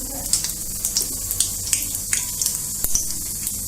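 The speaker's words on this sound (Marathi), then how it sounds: "आता तेल आपलं गरम झालेलं आहे एक चमचा मोहरी घालू" Mustard seeds pop and sizzle in hot oil in a pan for a Marathi Bhogi mixed vegetable dish, with a steady hiss and frequent small crackling pops heard up close.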